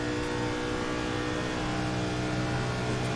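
A race car engine winding up, a dense steady roar with layered harmonic whine, loud and continuous with no pauses.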